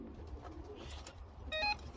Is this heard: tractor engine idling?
no